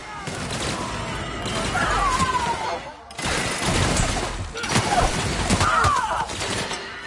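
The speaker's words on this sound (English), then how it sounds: "Opening fire!" Rapid video-game gunfire bursts in a battle near a snowy tower, dense and loud, with brief pauses and shattering impacts, while voices shout over the shooting.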